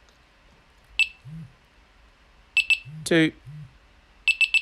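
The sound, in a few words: Delkim Rx-D bite alarm receiver beeping and vibrating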